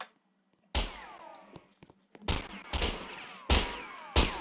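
Revolver gunshots ring out in the Wild Revolvers video game, a series of sharp, loud reports with ringing tails, several in quick succession after a quiet opening, mixed with small clicks.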